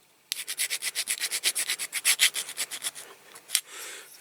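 Metal file rasping across a die-cast Dinky Toys MG Midget part, a quick run of about twenty even back-and-forth strokes, close and crisp, then a couple of scattered scrapes.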